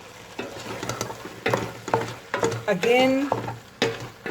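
Spring garlic and spring onion leaves and stems fry in a pot while being stirred, with a moderate sizzle and clanks of the utensil, under a voice talking.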